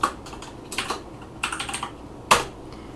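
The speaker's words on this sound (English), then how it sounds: "type in my name" Someone types a name on a Commodore Amiga computer keyboard, with short bursts of quick, close key clicks separated by pauses and one heavier keystroke near the end.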